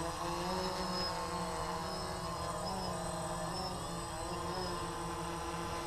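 DJI Phantom drone hovering with its propellers giving a steady, faint buzzing whine in shifting tones, alone without talking.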